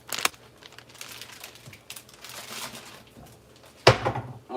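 A bag crinkles and rustles while egg-coated food is put into it, with a sharp crackle at the start, soft handling in between, and a loud crinkling burst near the end.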